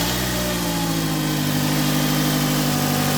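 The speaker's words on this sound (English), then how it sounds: "All I need to do is start the engine and test it" The engine of a 2011 Toyota Camry idles steadily after a serpentine belt replacement, a loud, close, even hum and rumble with no change in pace throughout.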